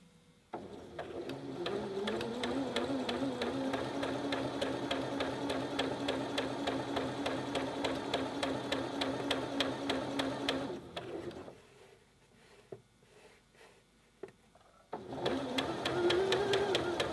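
A sewing machine runs steadily, stitching straight lines on fabric with a fast even mechanical whir for about ten seconds, pauses briefly, then starts up again close and clear.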